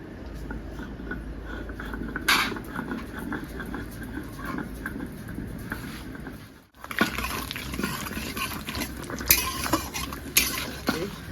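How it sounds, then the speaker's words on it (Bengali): Dried red chillies and whole cumin seeds go into hot oil in a pan, giving a steady close sizzle and crackle with clinks of a utensil, briefly dropping out before resuming louder. "তেলও গরম হয়ে গেছে, দিয়ে দেবো 4-5টা শুকনো লঙ্কা আর দিয়ে দেবো গোটা জিরে"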